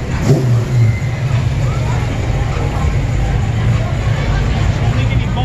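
A car engine revs while passing along a busy street on Clifton Hill in Niagara Falls, a steady low rumble under constant crowd noise and talk.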